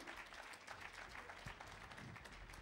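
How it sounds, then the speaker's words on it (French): Audience at a French real estate investment award ceremony applauding as an honoree is called up, a continuous moderate wash of many hands clapping without talk. "si vous voulez bien l'applaudir"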